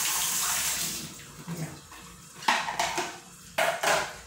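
Dishes being washed at a home kitchen sink: running tap water with clinks and clatters of plates and cutlery, close and fairly quiet, no talking.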